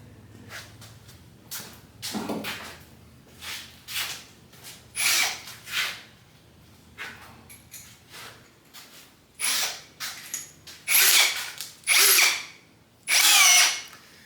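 Repeated short bursts of a power drill with a step drill bit whirring and biting into material, starting and stopping in an uneven rhythm, close and loud.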